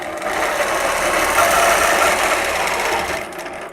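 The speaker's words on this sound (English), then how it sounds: "So let's go ahead and stitch that." A sewing machine stitches a quilt block for free-motion quilting, running steadily and close for nearly four seconds with an even whirring drone before it stops.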